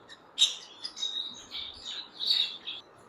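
Lovebird breeder pair in a cage giving a run of short, high chirps and tweets, close by and fairly soft, with no talking.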